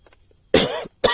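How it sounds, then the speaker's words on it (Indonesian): A person coughs while explaining compost in polybags: a short faint throat sound first, then a harsh, loud cough burst, and a second sharp cough right after. "Mohon maaf saya batuk-batuk ya"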